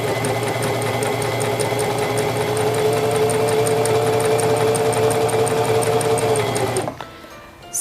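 A Singer Simple 3232 sewing machine stitches steadily along a fabric seam, a close, loud, even mechanical whirr with a fast needle rhythm, running continuously for about seven seconds before stopping abruptly.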